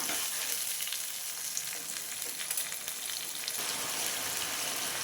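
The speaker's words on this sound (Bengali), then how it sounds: "মশলা দিয়ে দিলাম পেঁয়াজ ভাজা হয়ে গেছে মশলা দিয়ে এবার মশলাটা খুব সুন্দর করে কষিয়ে নেব" Spices hit a pan of already fried onions for a vegetarian curry and sizzle steadily and loudly throughout, a dense, even crackle with no talking.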